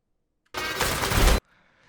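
A single burst of rapid automatic gunfire from the Saints Row 2022 game trailer lasts under a second. It is loud and dense, with silence before it and a faint tail after.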